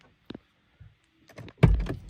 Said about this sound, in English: Go ahead and hit your unlock button.